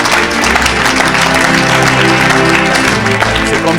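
A crowd at a church service gives loud, dense, continuous applause and cheering that fills the space steadily for a few seconds, with a low musical hum underneath.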